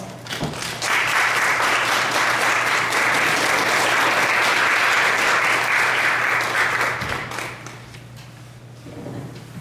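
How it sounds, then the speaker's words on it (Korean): A church congregation applauds to welcome a pastor, a loud sustained burst of many hands clapping that rises quickly, holds for several seconds, then tapers off into quieter room noise. "함께 목사님 나오실 때 박수로 환영하시기 바랍니다"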